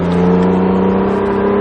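An Acura NSX engine pulls hard out of a track corner, a loud, steady onboard drone with a strong constant tone held throughout, close and with no talking.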